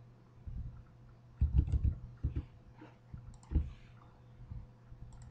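Someone types a password on a computer keyboard, a string of quiet, irregular clicks and taps up close, with a few louder keystroke bursts and no speech.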